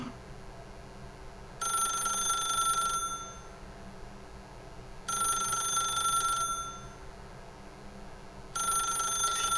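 A telephone rings in The Stanley Parable video game, three bright electronic rings over a low steady hum, evenly spaced with gaps between them, and no one speaking.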